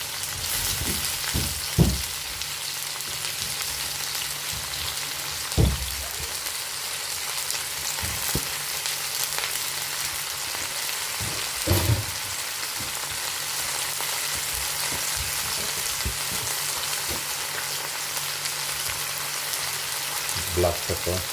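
Lemon and chilli fish frying in a pan, a steady close sizzle with occasional louder pops and scrapes spread across the stretch.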